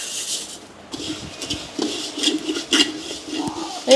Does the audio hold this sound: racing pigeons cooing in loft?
no